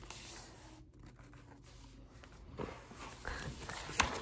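A sheet of paper is folded into a dart, giving soft, close rustling and creasing that builds toward a few sharper crinkles near the end, quiet and without talk.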